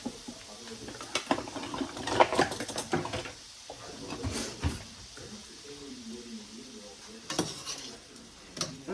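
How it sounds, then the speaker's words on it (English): Two pounds of shrimp sauté in a pan, crackling and sizzling up close, with irregular bursts of spatter, utensil clinks and stirring scrapes throughout. "I just want to saute these on each side"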